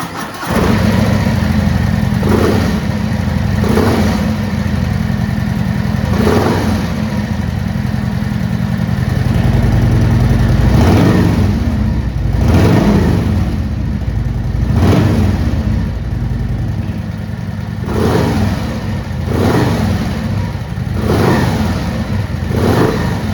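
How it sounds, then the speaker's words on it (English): A Harley-Davidson FXLRS motorcycle with a Jekill & Hyde exhaust starts and revs repeatedly, its loud exhaust rising and falling in bursts over a steady rumbling idle, close by. "You're going to hear 3 modes of exhaust."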